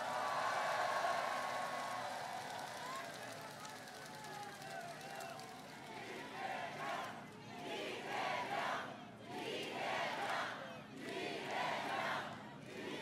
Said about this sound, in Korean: 함께한 동지들을 위해서 박수 한번 부탁드립니다.